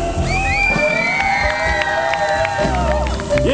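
A New Year's Eve outdoor concert crowd in Keelung cheers and shouts in a loud, dense swell, with whoops and voices rising over general crowd noise.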